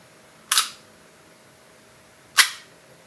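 Two crisp, sharp plastic clacks about two seconds apart as the slide of a Tokyo Marui Glock 17 Gen 4 airsoft pistol is racked, close and clean against near silence.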